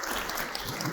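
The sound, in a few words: audience applause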